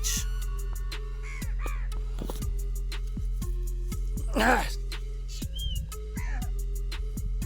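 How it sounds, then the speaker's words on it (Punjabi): Repeated crow caws ring out over a constant low hum, with scattered knocks and a burst of flapping or rustling midway. "ਚਿੱਟਿਆਂ ਦੇ ਨਾਲ ਭਾਈ ਕਾਲੇ ਕਾਂ ਵੀ ਆ ਗਏ"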